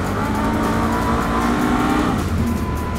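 A 2020 Can-Am Outlander Max Limited ATV engine roars steadily at high revs in sport mode, loud and close, with a gritty rumbling drone throughout and no voices.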